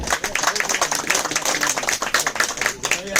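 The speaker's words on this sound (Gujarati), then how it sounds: "તાળી થઈ જાય જોરદાર રજનીભાઈ માટે" An audience claps for Rajnibhai at a gathering in Ahmedabad, brisk dense applause lasting a few seconds, close and lively with voices mixed in.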